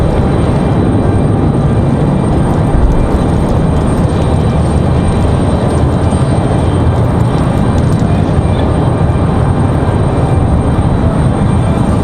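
Airliner arriving in gusty crosswind at Raleigh-Durham International Airport, a loud sustained low roar of engines and rushing wind that stays dense and steady throughout, with no clear break.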